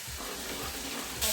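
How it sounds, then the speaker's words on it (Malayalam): Onions sautéing with beef for a Kerala-style beef roast, a steady close hiss and sizzle that swells louder near the end; no talking. "അപ്പോൾ ബീഫിലേക്ക് സവാള വഴറ്റിക്കൊണ്ടിരിക്കുകയാണ്"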